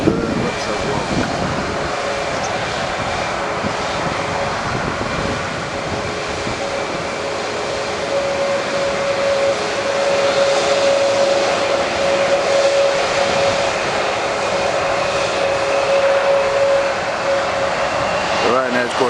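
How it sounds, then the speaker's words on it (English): A Ryanair airliner moving onto the runway at Manchester Airport, a continuous broad jet engine roar at moderate distance that swells slightly midway, with a voice faintly present. "The Ryanair's going on the runway."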